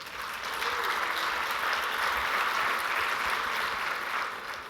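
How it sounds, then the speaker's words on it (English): Steady applause from an audience at a programming talk after a successful debugging demo, dense clapping sustained for nearly five seconds and fading slightly at the end, with no talking over it. "I've never gotten applause for debugging before"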